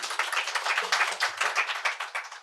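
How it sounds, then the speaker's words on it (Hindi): Audience members at a live comedy performance clap in a fast, rhythmic patter, with evenly spaced beats that stay moderately loud throughout. "एक बार तालियां बजा दीजिए"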